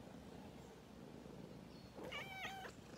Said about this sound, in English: There's a kitten at the shelter.